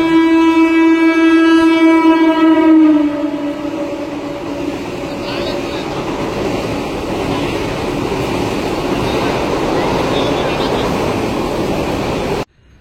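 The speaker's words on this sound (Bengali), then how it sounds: "এসি লোকাল যাচ্ছে।" An AC local train rolls past a station platform after heavy rain, a long loud rumbling roar preceded by a blaring horn, then cutting off abruptly at the end.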